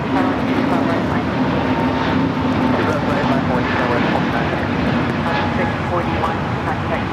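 A passenger jet takes off at Los Angeles International Airport, its engines a loud, steady, continuous roar that holds for several seconds without a break.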